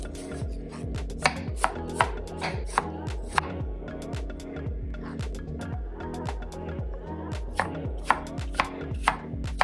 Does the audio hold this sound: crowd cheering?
no